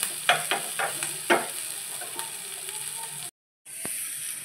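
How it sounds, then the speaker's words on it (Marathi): Green chillies sizzle in a pan for white sauce cheese pasta while a spoon stirs them, steady frying hiss broken by several scraping stir strokes, up close, with a brief gap near the end. "चांगल्या परतून घ्यायच्या मिरच्या."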